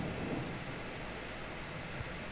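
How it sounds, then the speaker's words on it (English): Stormy weather in the Staxel video game: a steady, quiet wash of rain and wind with a soft low rumble of thunder in the background, continuous and without speech. "It's stormy."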